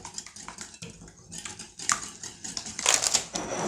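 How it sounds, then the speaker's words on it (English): Pie custard whisked in a mixing bowl, a steady run of light clinks and scrapes of utensil against bowl that grows louder and busier toward the end, heard close with no talking. "I'm going to go ahead and mix my custard up here"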